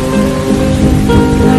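Steady background rain falls continuously and evenly, a dense wash of drops with no pauses, sitting under a musical track.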